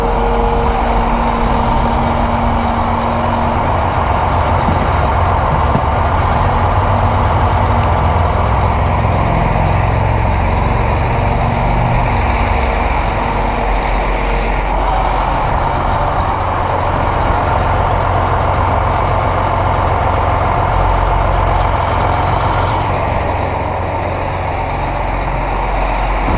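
A tractor engine runs steadily at close range, a loud continuous low rumble with a slight shift in tone partway through, no voices.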